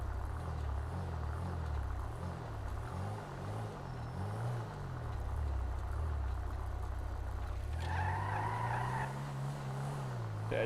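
Video game engine drone with a truck's tires skidding and squealing in a GTA roleplay server, the engine pitch rising and falling over several seconds before a sustained screech near the end.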